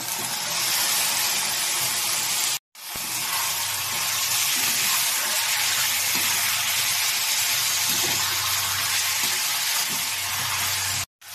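Chicken meat for a curry fries in a hot pan, giving a loud, continuous sizzle with steady crackle that runs almost unbroken, pausing briefly once near the start and again at the end.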